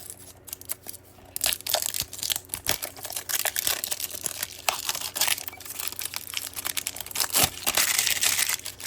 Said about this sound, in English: Throw the packaging away first